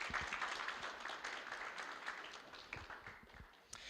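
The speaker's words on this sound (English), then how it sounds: "Give him a warm applause" Audience applause at an IT and AI skills conference after a speaker finishes, a fairly faint, steady patter of many hands clapping that thins slightly toward the end, heard alone without talk.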